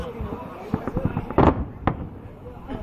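Fireworks for Eid al-Fitr in Riyadh, Saudi Arabia, heard as a short series of pops and a louder burst near the middle, with people talking underneath.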